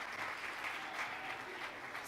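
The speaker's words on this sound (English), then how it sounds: "Applause, yeah." Faint, distant audience applause at a cybersecurity awards ceremony, a soft, continuous patter of many hands at low level.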